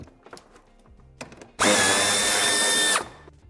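A power drill backs screws out of a BMW X1 tail light area, one loud steady whine lasting about a second and a half after faint handling clicks, then stopping abruptly.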